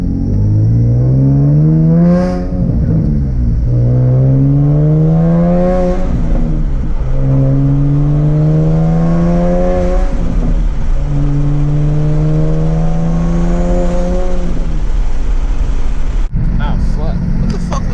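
Engine of a turbocharged Nissan 370Z running on E85, a loud close rumbling idle with repeated rising and falling revs in a steady rhythm, ending with a sharp pop.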